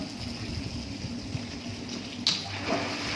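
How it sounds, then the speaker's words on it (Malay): A 2-horsepower water pump in a fertigation tank runs with a steady broadband rushing and churning of water, loud and continuous, with a brief click partway through. "Okey, kita try onkan pump."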